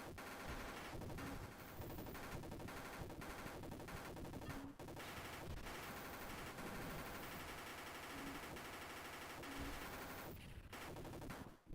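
Continuous automatic gunfire in a video game, rapid unbroken bursts of shots held down for several seconds, loud and dense with only brief pauses, no voices over it.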